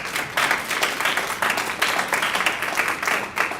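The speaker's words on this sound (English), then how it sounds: "Please don't clap, please." An audience at a Board of Education special session claps for a few seconds, a dense, moderately loud burst of applause in a meeting room.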